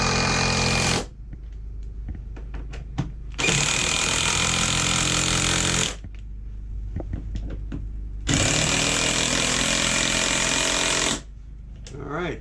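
A power drill tightens screws on an RV air conditioner airflow kit, its motor whirring loudly in two long bursts separated by short pauses with small clicks and handling noises.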